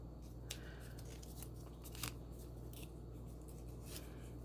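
Scissors trim masking tape on a repurposed cutting strip in a handful of faint, quick snips, spaced apart and heard alone over a low steady background hum.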